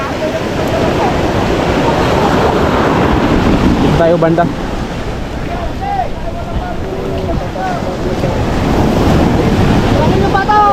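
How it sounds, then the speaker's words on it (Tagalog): Strong ocean waves surge and crash in a loud, continuous roar on a crowded shore, with wind buffeting the microphone and people talking nearby. "Ala, lakas din ng alon."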